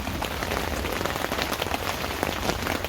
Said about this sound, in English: We don't mind some rain coming through.